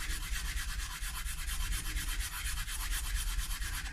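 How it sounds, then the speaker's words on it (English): Lighter-grit sandpaper rubs back and forth along the neck of a Schecter Hellraiser seven-string guitar in steady, rhythmic, close strokes, with no talk. "I want to give it a little bit of a going over with this lighter grit"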